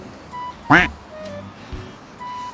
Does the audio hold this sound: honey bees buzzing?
no